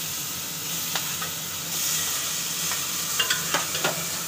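Chicken sizzles in a very hot pot with butter while being stirred, a steady hiss broken by a few scraping knocks of the utensil toward the end.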